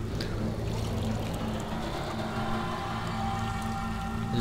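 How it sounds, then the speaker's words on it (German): Tea poured into a cup, a steady low trickling and splashing stream lasting several seconds, faint and alone, with a soft hollow fill sound and no voices. "Ich gieß mir jetzt erstmal Tee ein."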